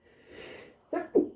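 A quiet sneeze, a soft breathy intake followed by two short bursts, close and alone.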